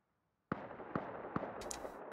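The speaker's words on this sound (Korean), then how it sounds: "저기서 총소리가 나면 어떡해" Three sharp gunshots ring out at a steady pace in the video game Raft, followed by a quick burst of higher crackling pops, all fairly close and punchy.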